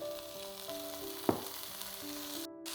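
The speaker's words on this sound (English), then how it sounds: "I've got some leek here that I'm going to saute off just on a nice medium heat with a little bit of avocado oil" Leek sautéing in avocado oil over medium heat, a quiet, steady sizzle with one sharp clink of a utensil against the pan near the middle.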